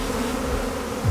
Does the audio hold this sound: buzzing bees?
yes